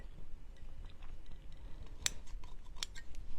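Scissors cut the fringe off a flannel bow, making a few faint snips and two sharper close clicks against a quiet room hum.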